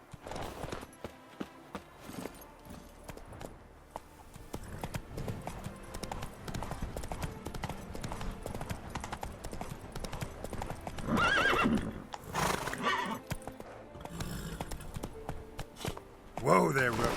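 Roach, Geralt's horse in The Witcher 3: Wild Hunt, trotting with steady clip-clop hoofbeats, then neighing loudly near the end, with in-game voices speaking over it.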